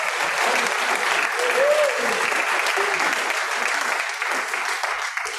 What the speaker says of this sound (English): I want some applause for all those names.